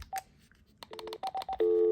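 A rapid series of short telephone keypad tones, several beeps in quick succession, followed by a steady sustained tone, all quiet and close.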